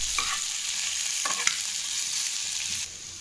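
Grated boiled potato fries in a pan, a steady bright sizzle with a few scraping strokes of stirring and a brief clink, the frying noise easing slightly at the very end.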